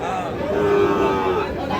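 A cow moos loudly in a long, close call at a busy livestock market, with a crowd murmuring in the background.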